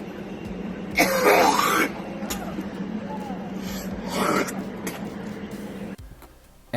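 Harsh throat clearing and hacking coughs come in two loud bursts with a quieter rasp between, close to the mic over a steady background hum, with no talking.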